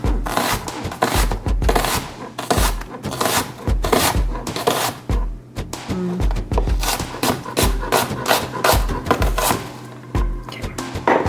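A kitchen knife slicing potatoes thinly on a cutting board for home fries, giving a steady run of crisp, close chopping taps with a few pauses and some quiet background noise.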